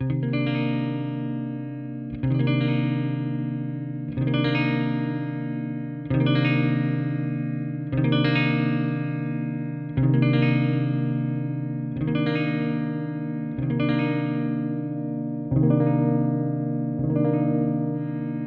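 Distorted 1962 Fender Musicmaster electric guitar with its tone control turned strums a chord about every two seconds, each ringing out and fading slightly before the next, loud and close with no talking.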